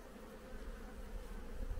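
Caucasian honey bees buzzing around an open hive during autumn colony care, a faint continuous low drone with no talking.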